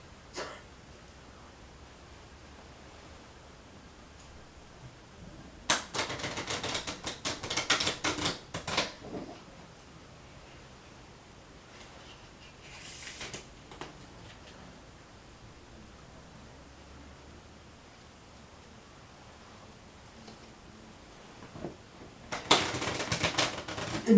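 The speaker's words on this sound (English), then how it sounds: "And then that should do it for shuffling." A deck of playing cards is shuffled in a few quick riffling bursts, close and crisp, separated by long stretches of quiet.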